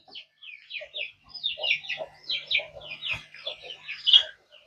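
Backyard chickens at feeding time cluck and chatter continuously in quick, overlapping bursts, close and fairly loud, with a few higher squawks rising near the end.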